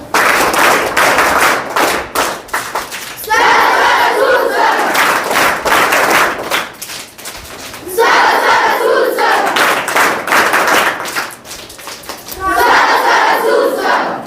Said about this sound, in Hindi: अतिथियों के लिए स्वागत ताली बजाकर स्वागत करेंगे।